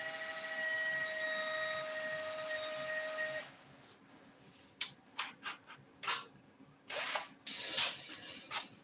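A power drill twists a length of wire straight during an F-100 seat recovery, its motor whining steadily for a few seconds, then stopping, followed by scattered clicks and handling knocks nearby.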